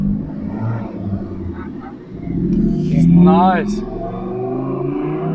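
A Hyundai i30N rumbles and then revs up, the engine pitch rising sharply midway before settling, heard close under a person's brief comment.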